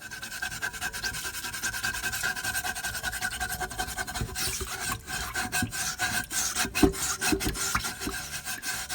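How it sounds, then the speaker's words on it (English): Baking soda grit rasps against a scorched pan as it is scrubbed, a continuous close, gritty rubbing that keeps a steady back-and-forth rhythm throughout without any talking. "Let's see if this helps make the scrubbing more effective."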